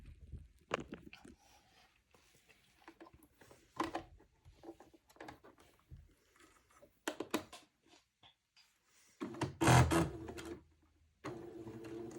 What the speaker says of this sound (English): now I will sew Entredo on using a straight stitch